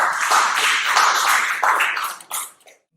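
Conference audience applauding to welcome a company CEO to the stage, a steady patter of clapping from many hands that swells briefly and then thins out and stops.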